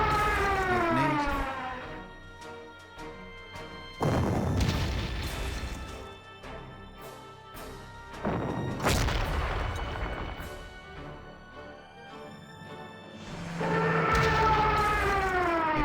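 Explosions and artillery booms in a World War II strategy video game, several heavy blasts with long rumbling decays, loud and spaced a few seconds apart, with a rising tonal swell at the start and end.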